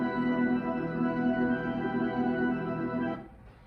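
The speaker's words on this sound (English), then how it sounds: "but this one he used the organ piano," A massive church pipe organ plays a sustained chord from a film score, rich and full-bodied, holding steadily before cutting off abruptly near the end.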